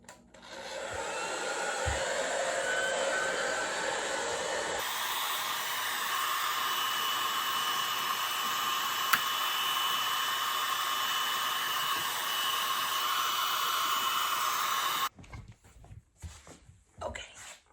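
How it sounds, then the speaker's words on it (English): A hair dryer runs on its no-heat setting, a loud, steady broadband whoosh that starts abruptly, holds for about ten seconds and then cuts off, with brief handling noise before and after. "I'm gonna get the hairdryer. Make sure this is no heat."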